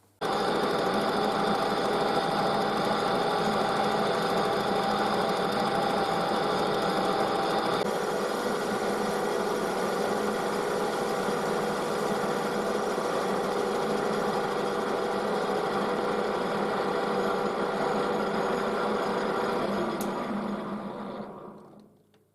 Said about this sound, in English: So I'm going to face this off and then bore it so that's a nice fit inside.